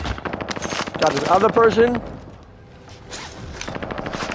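Rapid bursts of automatic gunfire from a video game crackle at the start and again near the end, fairly close, with someone talking over the shooting.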